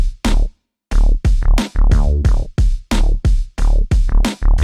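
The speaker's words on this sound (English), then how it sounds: "I have MIDI loops for the drum and bass with a few minor variations." Drum machine and punchy funk bass from UVI's Eternal Funk library looping together, loud and driving with a solid low end, repeated hits in a steady groove after a brief gap near the start.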